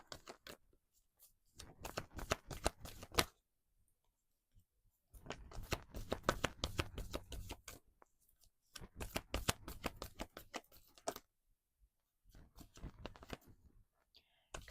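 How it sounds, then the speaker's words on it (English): Oracle cards sticking together while being shuffled by hand, soft papery riffles and rustles in several bursts separated by pauses, close and quiet. "Cards are really sticking together today."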